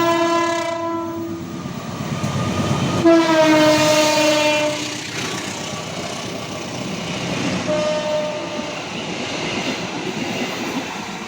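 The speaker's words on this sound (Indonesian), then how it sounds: "KA Tawangalun sudah melintas langsung di jalur 1 stasiun Grati." KA Tawangalun passenger train running straight through Grati station on track 1, sounding a loud sustained horn blast as it approaches, then a rumbling pass with wheel clatter and a second, shorter horn call near the end.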